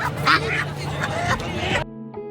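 A male brown Hot duck at a live bird market gives a few nasal quacks close by, mixed with market chatter and people talking.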